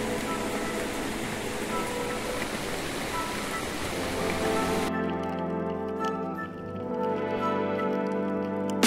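Steady rain hisses and patters continuously on a boat at anchor, then the sound shifts to a quieter, more tonal background with a low hum.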